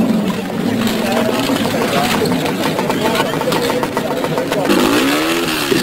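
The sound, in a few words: MV Agusta racing motorcycle engine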